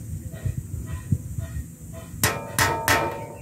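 A hammer taps a tiny nail to punch holes for a handmade grater: low shuffling noises at first, then three crisp, loud metallic blows close together.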